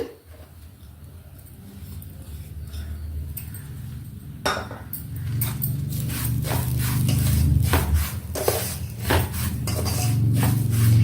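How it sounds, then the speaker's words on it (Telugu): Semolina and grated coconut roasting together in a pan while a spoon stirs, scraping and clinking against the metal in quick irregular strokes that grow busier and louder over a dry, close sizzle. "ఇలా కలుపుతూనే వేయించుకోవాలి"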